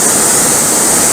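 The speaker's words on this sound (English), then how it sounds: "You would think with all the noise that this thing would be boil a lot quicker." A camping stove burner roars loudly and steadily while boiling water, a close, dense rushing hiss with no pauses and no voices.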